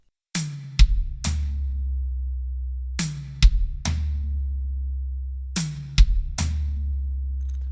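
A drum kit plays triplet groupings built from bass drum kicks, high tom and hi-hat hit together, and a right-hand stroke on the medium tom. Three clear phrases of close, loud hits sound alone, and the toms ring out sustained between strokes.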